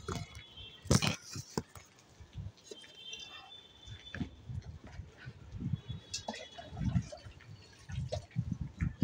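Potted plants on a sunny rooftop being watered, with irregular splashing, dripping and trickling of water into soil and pots, some close bursts, continuing throughout.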